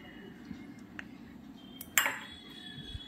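Egg curry with potatoes being served onto a plate, faint scraping and a few light clinks of a utensil against dishware, ending in one sharper ringing clink, close and quiet over a low background hum.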